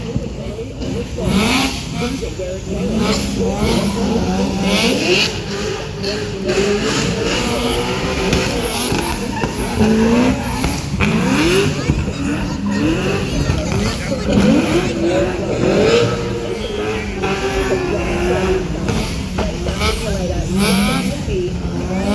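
A turbocharged drift car at a drift show revs hard and skids, engine pitch repeatedly climbing and falling with tire squeal, loud and continuous under a commentator's talk and crowd noise.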